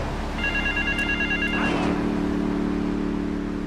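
Payphone ringing in the GTA III video game, a bright electronic ring repeated in a short burst near the start, heard alone over a steady low hum of background noise.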